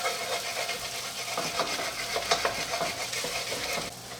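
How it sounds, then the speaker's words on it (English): Browning beef and tomato paste are stirred in a pot, with a steady sizzle and repeated scraping strokes of a utensil. The sound is close and fairly loud and runs without talk. "you want to stir it a lot more than you were when you were just browning it, because the tomato paste will burn a lot easier"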